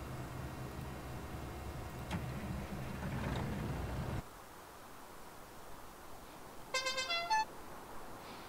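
Tractor horn in Landwirtschafts-Simulator 19 gives a short series of quick honks near the end, following rustling noise and a sudden drop in the background.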